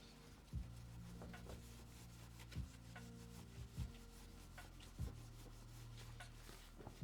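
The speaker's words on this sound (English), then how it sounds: "Hand polishing." Plastic keyboard part rubbed by hand to polish off residue, a soft continuous scrubbing rasp with a few sharper knocks scattered through, close and fairly quiet.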